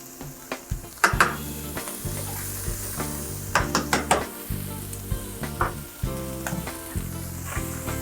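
Shrimp, garlic and shallots sizzle steadily in a hot pan as white wine goes in, with a series of sharp metallic clanks and stirring scrapes over the constant crackle; no one speaks.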